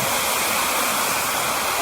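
A forest waterfall swollen by several days of heavy rain roars in a steady, dense rush of falling water, close and loud, with no voices.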